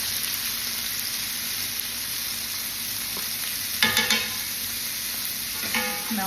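Butter sizzling and frying in a steak pan with rosemary, garlic and thyme, a steady close crackle with a few sharper spatters and stirring clinks toward the end.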